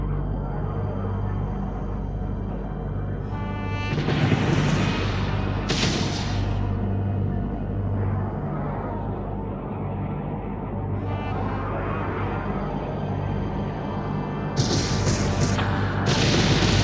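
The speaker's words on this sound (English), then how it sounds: "We're hit. Taking fire." A ship takes gunfire and explosions in the Homeworld 3 video game. Heavy booms and bursts of impacts sound over a constant loud rumbling battle drone, with a voice heard at times.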